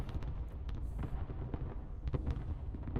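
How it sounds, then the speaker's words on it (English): Video game fireworks going off in a competitive match, with rapid crackling bursts and pops over a dense rumbling background. "Let's enjoy the fireworks here."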